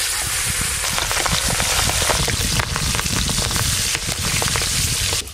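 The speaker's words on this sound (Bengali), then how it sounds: "প্রথমে এই মাছগুলো ভেজে নেব।" Fish rubbed with salt and turmeric frying in hot oil, a dense, steady crackling sizzle with sharp spits and pops that carries on loud and close throughout.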